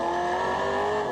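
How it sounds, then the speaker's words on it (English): A V8 race car in a New Zealand V8 saloon race at Timaru downshifts into first gear. A loud, close engine note holds a strong high harmonic whine for about a second, with no voices. "Car's down to first gear."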